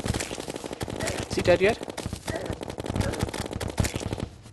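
Rapid bursts of cannon and gunfire from a Terraria boss fight against a mini-boss captain, loud and dense, with a voice speaking over the barrage.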